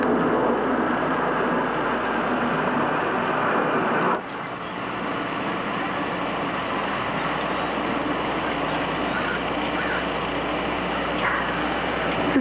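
An aircraft circling overhead makes a loud, continuous broadband roar that dips abruptly partway through, then carries on steadily at a slightly lower level.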